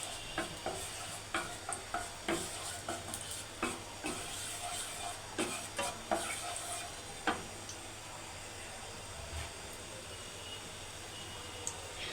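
Semolina toasting slowly in ghee over low heat for a malai curry roll filling, with soft scraping stirs and light intermittent ticks against a faint steady hiss, close and quiet, no voices.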